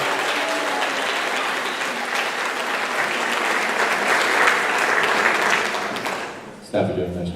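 Sustained applause from a banquet audience honouring the most improved symphonic band members at a school band banquet, dense and steady clapping filling the room before cutting off abruptly near the end.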